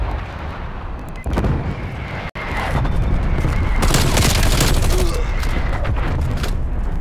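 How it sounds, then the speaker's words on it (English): Artillery strike in the game Call of Duty: Cold War, heard as loud rumbling booms and a sustained barrage of blasts over game background noise. "Marking artillery targets."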